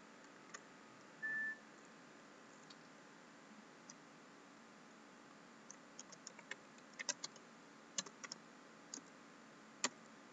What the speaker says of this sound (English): I'll just type it there.